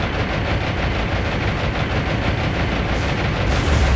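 An explosion in the naval video game War on the Sea, set in the Pacific war: a loud, continuous rumbling roar with dense gunfire-like crackle throughout, brightening into a harsher burst near the end.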